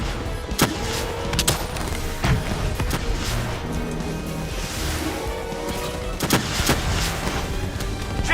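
Heavy gunfire and explosive blasts during a Call of Duty: Black Ops III combat mission, with sharp irregular shots and louder booms over a constant rumbling battle background.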